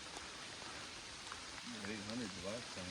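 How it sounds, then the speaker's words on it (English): Rain falls on a forest trail while hikers walk it, a soft steady patter and hiss in the background, with a voice briefly talking over it near the end. "It is most definitely raining up here."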